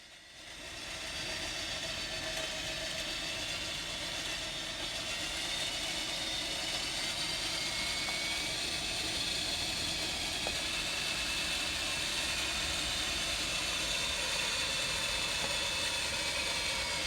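An electric receiver winch motor runs outdoors in Hoosier National Forest, giving off a steady, loud mechanical whine and hum that starts abruptly and holds constant without talk.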